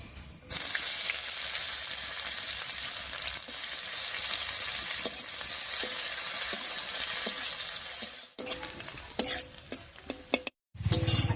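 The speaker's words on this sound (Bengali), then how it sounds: "ফোড়নের সঙ্গে পেঁয়াজটা বেশ লাল লাল করে ভেজে নিয়েছি" Chopped onions frying in mustard oil with dried red chillies and panch phoron spices, a loud steady sizzle being stirred continuously in the pan, with a brief pause near the end before the frying resumes.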